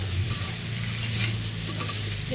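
Chunks of elephant foot yam and potato sizzle steadily in a hot pan with oil, a close, even crackle broken by occasional stirring scrapes.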